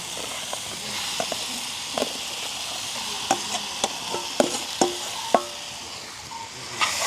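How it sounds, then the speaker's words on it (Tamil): A spoon scrapes and taps in a pan while mashed potato and chilli powder are stirred in over a steady sizzle of frying, with scattered clinks in a village kitchen. "இப்போ வந்து தனி மிளகாத்தூளை வந்து அளவாகவே போட்டுக்கொள்ளுங்க அதோட பார்த்தீங்கன்னா நாங்கள் மசிச்சு வச்சுருக்க உருளைக்கிழங்க சேர்ப்போம்"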